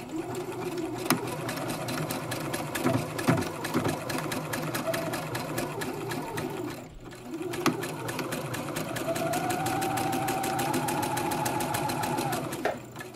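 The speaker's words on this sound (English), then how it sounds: "To a zigzag stitch just wide enough to cover the wire." A sewing machine runs a zigzag stitch over a chenille stem in a fabric mask seam, a rapid steady needle clatter near and loud, pausing briefly midway before resuming with a rising whine.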